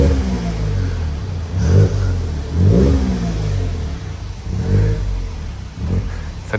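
A Perodua Bezza 1.0 fitted with a new exhaust muffler revs repeatedly nearby, each blip of the throttle swelling into a throaty burst and falling back to idle, about five times in a row.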